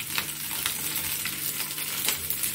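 Garlic and green chilli sauté in hot oil in a pan, giving a close, steady crackling sizzle with brief brighter spatters throughout.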